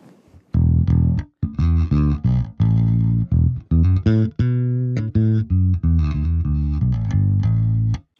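Bass guitar on a clean tone through a Darkglass Microtubes Infinity, playing a busy riff of short plucked notes and slides for about eight seconds, loud and close with no talking.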